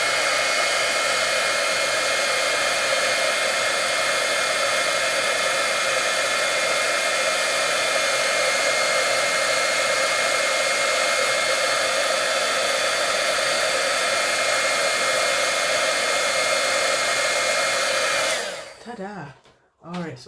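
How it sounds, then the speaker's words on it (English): An older Stampin' Up! heat embossing tool blows hot air in a loud, steady, close whir that holds unchanged for about eighteen seconds before it cuts off and winds down. "I have one of the older Stampin' Up! Heat embossers, and it still works."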